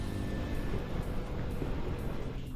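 A TVS Apache RTR 200 motorcycle engine runs with a steady, moderately quiet low rumble that stays even throughout, with no voices.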